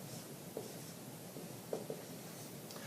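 Pen or marker writing out a probability example about drawing cards from a standard deck, with quiet strokes and a few small taps against a faint steady background hiss, no voice.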